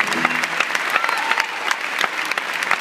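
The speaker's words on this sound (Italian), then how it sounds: "dirci grazie per questo applauso speciale." Applause from a concert audience in Bologna at a tribute event, dense, steady clapping with some louder individual claps standing out, heard up close for the whole stretch.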